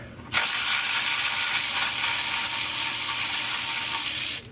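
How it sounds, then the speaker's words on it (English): A ratchet wrench steadily clicks out a 10mm bolt on a 2023+ Jeep Wrangler during a splash guard install. The dense, continuous ratcheting runs close and loud for about four seconds, then stops abruptly. "we're going to go ahead and take out this bolt. So this is 10mm."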